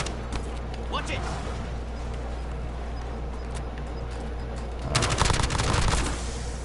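Gunfire in the Warzone zombies mode video game, with scattered shots and then a louder burst of rapid firing near the end, heard over continuous game background noise.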